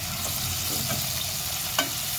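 Onions sizzle and fry steadily in hot oil in a pan, a dense continuous crackle with a brief clink or stir near the end, no voices.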